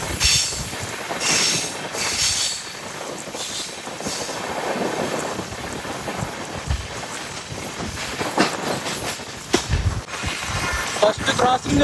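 Riding aboard the Tirupati Express, an LHB-coach train near Kadiyam station, another express, the 12663 Tiruchirappalli Superfast, crosses past. Loud close rail rumble, clattering wheels and squeals fill the whole stretch, with a voice talking intermittently.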